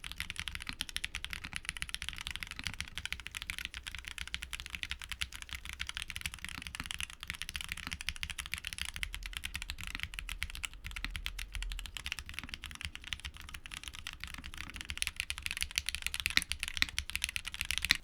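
Continuous rapid typing on a mechanical keyboard fitted with TTC switches, a dense, steady clatter of keystrokes heard up close with no voices.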